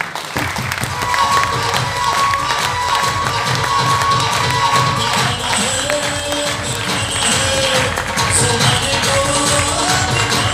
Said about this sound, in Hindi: तो दिमाग खोलने के लिए एक बार जोरदार तालियां प्लीज